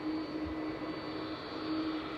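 A freighter aircraft at East Midlands Airport at night gives a steady, distant engine drone with a constant whine, no voices over it.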